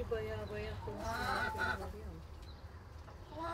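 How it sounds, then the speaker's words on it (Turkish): Chickens and roosters on a farm cluck and call in a busy, overlapping chorus, close and fairly loud at first and thinning out later. "Horozlar var, tavuklar var oğlum."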